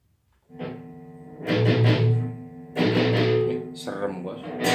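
A Schecter Jeff Loomis electric guitar fitted with a Veyz sustainer, playing distorted chords that ring out with long sustain in a few separate loud strums, alone with no voices.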